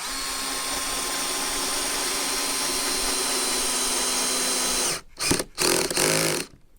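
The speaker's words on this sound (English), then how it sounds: "So you can hear the clutch slipping." A cordless drill drives a screw into a 30-year-old redwood deck cabinet, set to speed 1 and clutch 7, whirring steadily and loudly, then cutting out into a few short ratcheting bursts as the clutch slips.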